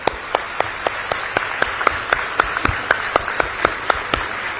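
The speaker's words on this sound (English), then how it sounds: "please give them a big round of applause" A crowd at a university convocation claps steadily, individual sharp claps ringing out at an even rhythm over a dense wash of applause, with no talking.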